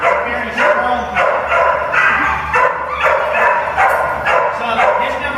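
A strong dog barks repeatedly in a steady, rhythmic series of loud, close woofs mixed with yips and whimpers, while a person talks over the barking.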